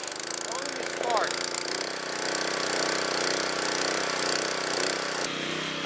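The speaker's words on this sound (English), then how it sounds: "we got the power washer all started up and running, nice and loud" A rented gas-powered pressure washer engine runs at a loud, steady idle with a buzzing mechanical drone, briefly rising in pitch early on and ending in a sharp clunk.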